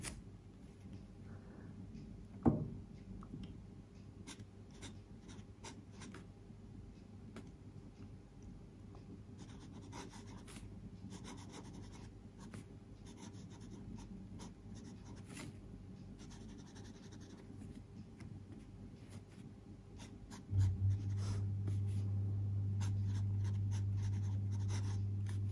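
A Sailor Pro Gear Slim fountain pen from the Fairy series writes on paper, its soft nib scratching faintly and steadily with small pauses between strokes, up close and quiet, before a low hum sets in near the end.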